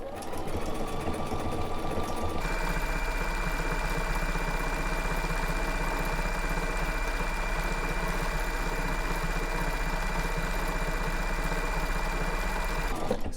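A sewing machine stitches a quilt label pattern, starting with a short lighter run, then a steady fast mechanical whir with rapid needle rhythm that continues loud and close for the rest of the clip.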